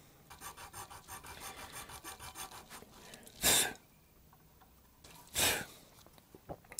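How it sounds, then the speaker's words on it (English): Hosco nut files rasp against a bone guitar nut: a run of rapid short strokes, then two separate, louder, drawn-out rasps, all close and alone without talk. "I love these Hosco nut files."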